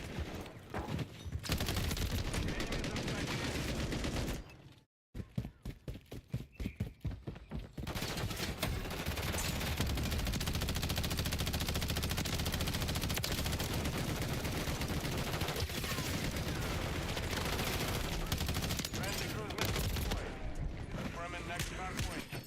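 Dense, sustained automatic gunfire from Call of Duty: Modern Warfare III Hardpoint multiplayer, loud and continuous for most of the stretch, with a brief sharp dropout near the start before bursts resume and roll on under game noise.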